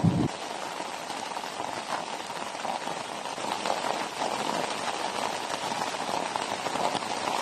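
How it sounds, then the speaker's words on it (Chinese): Heavy rain pours down steadily in a guava orchard, a dense, close, even hiss of drops on surfaces that swells slightly midway and runs unbroken throughout. "真的下了好大的雨。"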